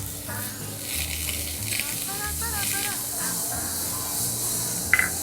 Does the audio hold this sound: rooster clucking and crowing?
no